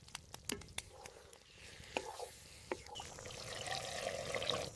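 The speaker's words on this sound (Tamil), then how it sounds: "தேவையான அளவு தண்ணி ஊத்தி மூடி வச்சு மிதமான தீயில நல்லா வேக விடுறோம்" Water is poured into a pot of country chicken curry, Rajapalayam style, with a soft continuous trickle and splash that builds toward the end, preceded by a few light clinks and taps, no talking.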